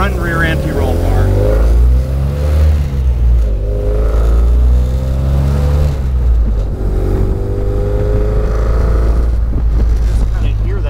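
A 1960 Bugeye Sprite engine with side-draft Weber carburettors growls deep and throaty, rising in pitch through gear changes, loud and close, with a steady low exhaust rumble underneath.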